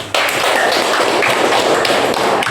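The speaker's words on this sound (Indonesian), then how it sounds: "Kasih aplaus dulu untuk Maryama." Classroom applause from a group of students, a dense burst of clapping that starts abruptly and continues steadily and loudly throughout, close by with no talk.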